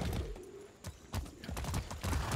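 A horse's hooves clip-clopping in the video game Far Cry 6, several quick uneven steps heard faintly and close by, with no speech over them.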